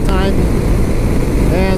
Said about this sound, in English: It's so windy, crosswind, big time.